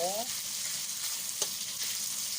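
Pork belly frying in oil in a home kitchen wok, a steady loud sizzle with faint stirring scrapes, continuous and close.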